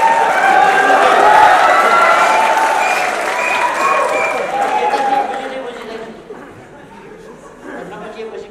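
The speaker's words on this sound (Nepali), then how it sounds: "त्यसकारण त्यताकोले ताली पड्काउनुहुन्छ, यताकोले एकछिनपछि ताली पड्काउँछ।" An audience applauds a speech at a Nepali political gathering, the loud clapping mixed with crowd chatter and some chuckles before slowly fading.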